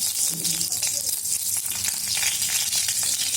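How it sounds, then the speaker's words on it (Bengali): Ghee heating in a kadai crackles and sizzles steadily and loudly, with a faint clink or stir near the start. "এখন 2 চামচ ঘি দিয়ে দিলাম"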